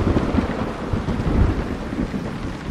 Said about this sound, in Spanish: Está lloviendo a cántaros y deberíamos regresar a casa.